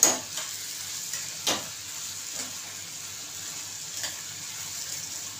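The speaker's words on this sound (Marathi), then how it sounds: "अशी मसाल्यामध्ये मिठामध्ये चांगली परतून घ्यायची" Cluster beans stir-fried in a pan with spices and salt, giving a soft steady sizzle with a few scraping stirs of the spoon, close and fairly quiet, with no talking.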